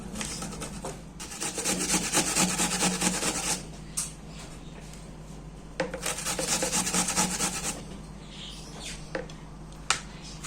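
A window pane being wiped clean in a child's room, in two long stretches of steady rubbing and squeaking strokes with a brief pause between them, close and moderately loud, with no talking.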